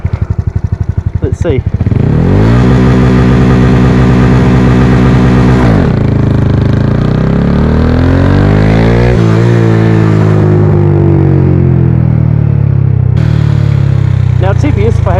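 A Honda Wave 125i underbone motorcycle with a 143cc engine and an oil cooler revs hard and close, holding a high buzzing pitch for a few seconds. It then drops and climbs again toward high rpm, with a brief spoken remark.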